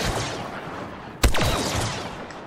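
A single sharp sniper rifle shot in Star Wars Battlefront 2, one loud crack followed by a fading ringing tail over a soft, hissing ambient background.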